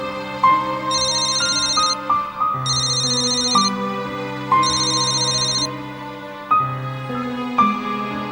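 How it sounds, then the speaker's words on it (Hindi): A phone ringtone plays loudly with a repeating melodic chime in bursts, ringing alone without talk. "मधु ने फोन काट दिया।"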